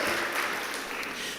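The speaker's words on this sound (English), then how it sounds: "Give them a round of applause, please." Audience applause at a Jamaican community gathering, a soft, distant, steady patter of many hands clapping with no distinct voices over it.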